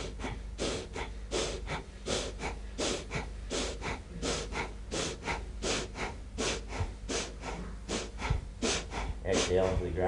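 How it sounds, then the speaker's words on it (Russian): Rhythmic belly breathing during a qigong exercise, a steady series of short, forceful breaths repeated roughly every half second, close and loud throughout. "Начинаем дышать животом."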